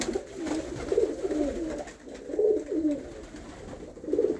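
Pigeons in a loft coo in repeated soft, throaty phrases, fairly close and steady, over a faint background hiss with no talking.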